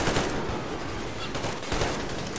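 Rapid bursts of gunfire from the Metro video game fill the stretch without pause, dense and steady at moderate loudness with a couple of slightly heavier volleys.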